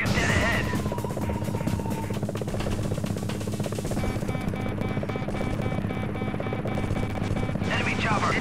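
Helicopter rotor and engine drone from the Amiga 1200 game Gunship 2000 AGA, a steady loud low chopping hum with layered synthetic tones and a brief cockpit voice callout over it.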